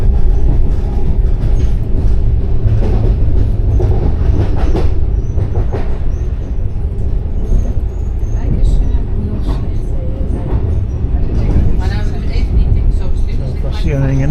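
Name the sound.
passenger train running on the Pisa to Naples line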